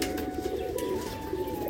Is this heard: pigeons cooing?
yes